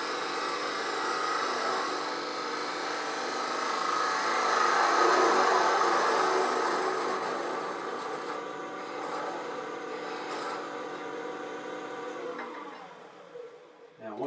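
A spindle gouge cuts into a spinning wooden blank on a lathe, producing a continuous loud whirring, rasping drone that swells midway and fades toward the end.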